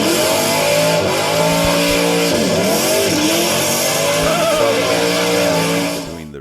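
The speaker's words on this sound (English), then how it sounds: "Hitting the hill next is Stallion Johnson and Dutch Clutch with the red and white buggy." A red and white diecast toy buggy races down a hill climb track, with a loud, continuous rolling rumble and whine that carries steadily through the run, shifting in pitch as it speeds along, then fading at the end.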